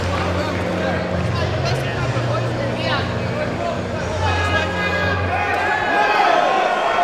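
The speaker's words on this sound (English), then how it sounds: "Grant Dennis raises his hand in victory. The crowd goes wild for" Boxing crowd at a professional show in Medway, Kent, cheering and applauding a winning fighter; a steady, loud wash of crowd noise runs throughout, with a low hum underneath.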